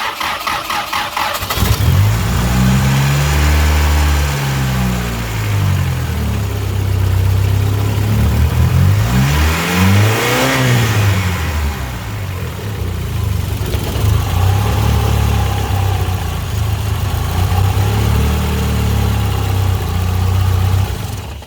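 A Mitsubishi 4G63 engine with a balance shaft delete and a plain aluminum Fluidampr crank pulley starts and idles loudly up close, with a few revs rising and falling around the middle, alone with no talk.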